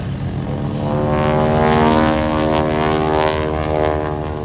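A 450HP Boeing Stearman biplane flying aerobatics at an air show, its radial engine and propeller giving a loud, steady, throaty drone that swells slightly as it passes, with no voices.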